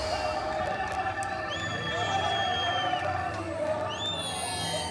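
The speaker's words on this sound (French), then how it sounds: "Une petite foule acclame les nouveaux maîtres de la ville" A small crowd in Bukavu, Democratic Republic of Congo, cheers the city's new masters, a steady wash of voices with scattered whoops and shouts, mid-distance and continuous throughout.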